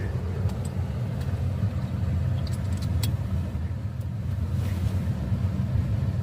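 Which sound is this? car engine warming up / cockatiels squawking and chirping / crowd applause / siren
car engine warming up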